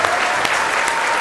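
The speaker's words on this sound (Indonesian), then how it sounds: "Sekali lagi boleh berikan tepuk tangannya." A seated audience at a pro audio seminar in Surabaya applauds a presenter with a brief, steady burst of many hands clapping, close and continuous.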